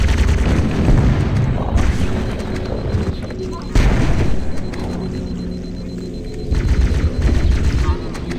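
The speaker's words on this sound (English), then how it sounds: "Is that a fucking shotgun?" Heavy booming gunfire in Halo CE (MCC) on The Library level, repeated loud blasts with a shotgun among them, dense and continuous, with a player talking over it.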